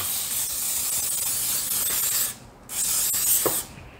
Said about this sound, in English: I'm gonna go back and actually spray that also.